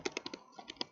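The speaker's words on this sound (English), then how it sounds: "You press enter" Several quick, light key taps on a computer keyboard, close and fairly quiet, ending with a firmer press.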